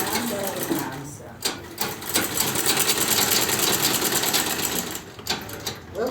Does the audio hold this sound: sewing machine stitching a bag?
yes